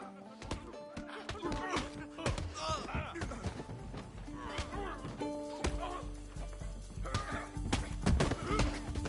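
A horse in Dead by Daylight whinnies several times over busy game noise, with clopping hooves and a dog-like yelp mixed in, while someone talks over part of it.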